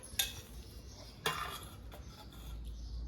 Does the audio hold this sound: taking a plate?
yes